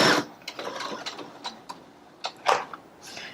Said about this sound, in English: stitch down the opposite side of this Velcro